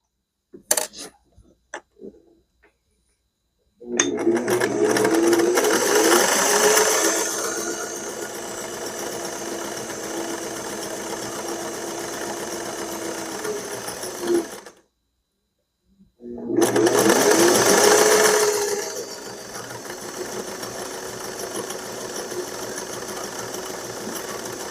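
A sewing machine runs steadily while stitching half square triangle quilt blocks, two long bursts of even motor whir and needle clatter separated by a short silence, preceded by a few small clicks.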